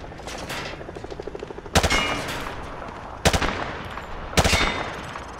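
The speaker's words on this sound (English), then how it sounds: "Grab that weapon off the table and fire at the targets behind you." Rifle fire at a firing range in Call of Duty Modern Warfare 2 Remastered: a rapid burst of automatic shots, then several loud, sharp single reports spaced apart, each ringing out with a short echoing tail.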